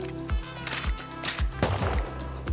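Gunfire in the video game Rust comes as a rapid run of sharp reports, roughly half a dozen shots in quick succession with some echo, loud and close with no talk.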